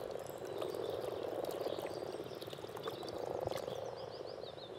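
Frogs croaking during spring mating form a dense, steady chorus of rapid pulsing croaks, many animals calling at once, moderately far and continuous.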